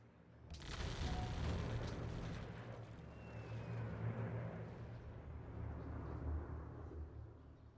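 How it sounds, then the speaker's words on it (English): Bombing in Civilization V with a World War 2 mod plays as a deep, rumbling explosion that bursts in loudly and then rolls on as a long, heavy roar, with no talk over it. "Alright, keep bombing the city of Kyle."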